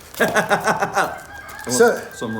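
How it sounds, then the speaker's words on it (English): Chickens cluck and squawk outdoors in a rapid run of calls, fairly close, then a few more clucks after a brief pause. "And the chickens outside are having a good time. You hear them?"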